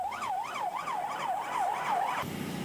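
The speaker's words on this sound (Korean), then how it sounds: "출동 지령과 함께 소방차들이 화재 현장으로 달려갑니다" A fire engine on an emergency call runs its wailing siren, rising and falling steadily and loud over road noise, then cuts off near the end.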